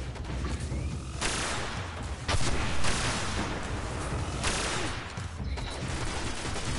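Rocket launcher fire in the video game Destiny on PS4: dense, sustained bursts of explosive game gunfire and blasts, loud and continuous throughout, with a heavier boom swell partway through.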